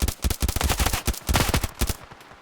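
Rapid bursts of machine gun fire in the mobile shooter game Standoff 2, loud and close, firing in quick rhythmic volleys with brief gaps before trailing off at the end.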